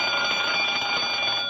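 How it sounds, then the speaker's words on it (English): A burglar alarm in a fur store rings loudly and continuously, a steady electric bell clangor with no pauses and no voices over it. "I better test the burglar alarm."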